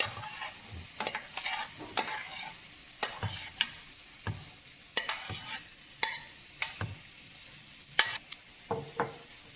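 Vegetables for paneer mushroom masala sautéing in a pan, a steady sizzle broken by repeated loud scraping strokes of a spoon stirring against the pan, close and without talk.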